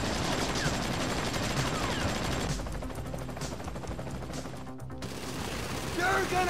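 AK assault rifle fire in GTA 5 rattles through dense, continuous gunfire and game noise, loud and sustained, with a brief lull midway before the shooting swells again.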